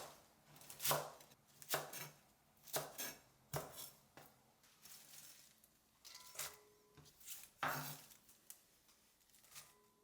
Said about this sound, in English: I'm going to cut the chive into 3 to 4 centimeter long like this